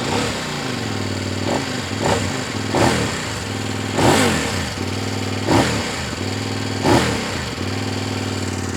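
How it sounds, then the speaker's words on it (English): A Kove 800X Pro adventure motorcycle with a parallel twin engine and standard road-legal exhaust, revving repeatedly close by, with throttle blips rising and falling in a steady rhythm over a gruff idle. "I think that sounds pretty reasonable, pretty good to be perfectly honest for a road legal bike with a standard can."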